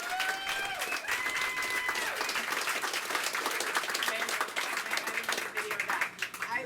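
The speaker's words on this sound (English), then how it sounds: "I keep missing when you guys give the applause." Audience applause fills the room at a speech, dense clapping and crowd noise, with scattered whistles and cheers rising above it.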